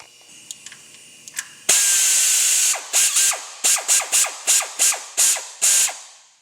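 A ratchet tightens thermostat housing bolts on a 2004 Jeep Grand Cherokee with a 4.7L engine, a few faint clicks giving way to a loud, close series of about nine rapid ratcheting bursts in a steady rhythm.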